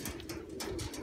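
Pigeons coo in soft, repeated low calls, close by and steady, with faint higher rustles and chirps around them and no talk.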